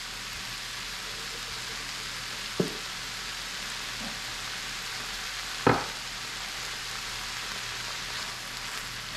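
Blue oyster mushrooms sauté with Worcestershire sauce over medium-high heat, giving a constant, even sizzle with two sharp knocks of a utensil against the pan as they are stirred.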